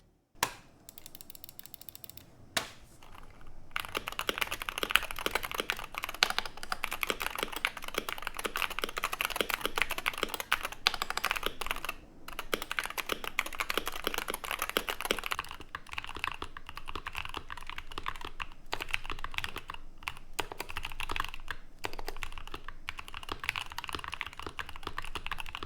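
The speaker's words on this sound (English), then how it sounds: "Let's do a quick sound test to compare the stock sound with this new modded sound." Typing on a modded Wooting 60HE keyboard, a dense, continuous run of crisp keystrokes with brief pauses, close up and with no talking.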